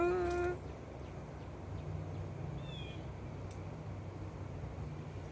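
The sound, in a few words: cat chirping and meowing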